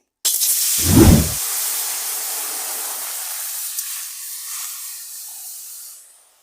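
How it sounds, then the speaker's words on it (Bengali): Water hits a hot pan while papaya is cooking, bursting into a loud, sharp sizzle that settles into a long steady steaming hiss and fades out after several seconds, close and alone. "জল দিয়ে দিচ্ছি"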